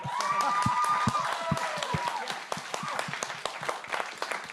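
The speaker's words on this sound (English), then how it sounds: "I'd like a round of applause for this holding the record" Applause from a studio audience on a film preview show, a busy spread of claps fairly close, with a voice talking over the opening moments.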